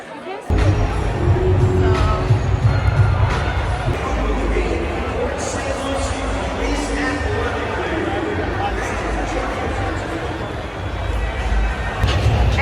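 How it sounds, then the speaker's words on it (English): A packed club crowd at halftime of a Dolphins game makes a dense, constant hubbub of chatter, music and movement. Nearby voices talk over it. "The halftime crowd."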